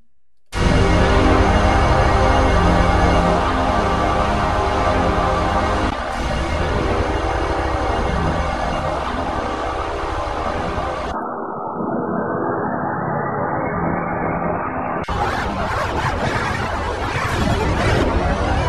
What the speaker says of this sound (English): listening to a layered choir and sound effect patch from the DS-864 sampler